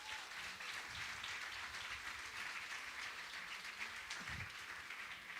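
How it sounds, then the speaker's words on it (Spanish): Applause from an audience at a talk, with steady dense clapping throughout that stays fairly quiet and distant. "Vamos a darle un fuerte aplauso."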